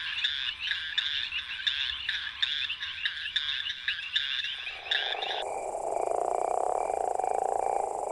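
A male leopard toad calls from an urban garden, a run of rapid pulsed snore-like croaks repeated in regular bursts, loud and close, then giving way to a steady hissing buzz.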